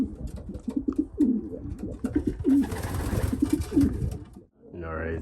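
Pigeons coo in a loft, one soft rolling call after another, close by and steady, with shuffling in the background and a short burst of other noise near the end.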